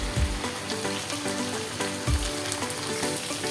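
Chicken pieces fry in hot oil with a dense, steady sizzle and crackle close up, broken by a couple of soft thumps as the pieces are turned, with no talking.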